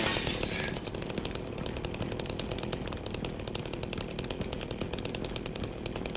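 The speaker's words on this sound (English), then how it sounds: "he automatically pulls his chainsaw out or whatever weapon he has" Chainsaw in the Silent Hill 2 video game, a loud, continuous buzzing drone with a rapid pulsing rattle, steady throughout with no voices.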